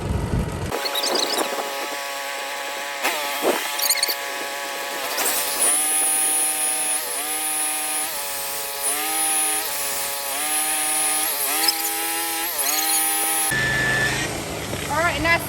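A rotary polisher working the black gel coat of a Chaparral boat, a loud continuous whine that holds steady, rising and dipping in pitch as pressure changes, with a short change in tone near the end.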